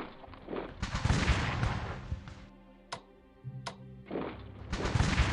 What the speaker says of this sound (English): let's hit these guys with our artillery